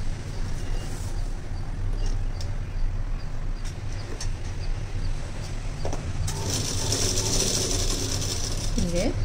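A sewing machine stitching the lining of a skirt runs in a steady mechanical whir with a rapid ticking rhythm, close and continuous, growing somewhat brighter and busier toward the end.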